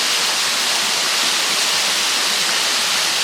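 A waterfall in the Witches' Gorge near Sochi roars as a loud, steady, close rush of falling water, dense and unbroken with no voices over it.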